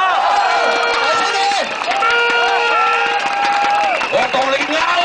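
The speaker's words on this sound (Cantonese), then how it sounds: "俾啲掌聲啊！" Large outdoor crowd at a Hong Kong pro-democracy rally and march for genuine universal suffrage, roaring and cheering continuously with whistles and shouts, loud and dense throughout the clip.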